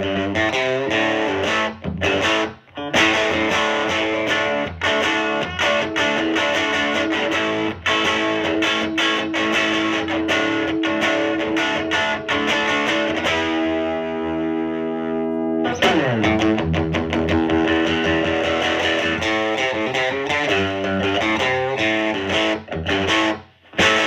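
A 1968 Fender Masterbuilt Custom Shop rosewood Telecaster plays through its bridge pickup with a crunchy, lightly distorted tone and no reverb. Loud strummed chords run continuously, with a brief stretch of sustained ringing notes midway before the strumming resumes.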